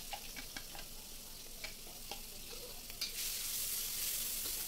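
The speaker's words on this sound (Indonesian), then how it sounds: "siapkan minyak kemudian kita akan tumis bumbunya tadi" Spice paste hitting hot oil, with light stirring taps and scrapes at first, then a sudden loud, steady sizzle that swells near the end and keeps going.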